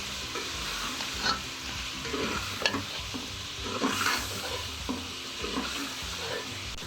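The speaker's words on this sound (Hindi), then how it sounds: "अब हम इसको अच्छे से भूनते हैं।" Chilli masala of crushed red chilli and ground chilli sizzles in a pan for chicken yakhni pulao, with soft frying hiss broken by several scrapes and clinks of a spoon stirring, close and moderately quiet, with no voices.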